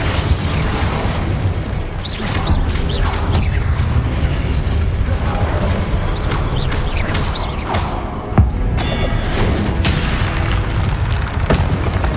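A Confringo blasting spell exploding in Hogwarts Legacy, a dense wash of booming blasts and crashing debris across a busy game fight, with one sharper burst standing out.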